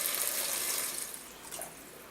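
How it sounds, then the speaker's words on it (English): Water, about six cups, pours into a soup pot for homemade meatball soup, a steady close splashing rush that softens slightly toward the end. "Let's go ahead and add the water to this."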